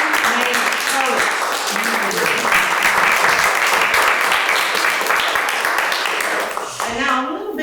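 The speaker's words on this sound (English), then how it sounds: "Let us give a round of applause for the women named Courage." Audience applause at an award presentation honoring empowering women, a broad wash of clapping with voices and talk running over it throughout, fading near the end.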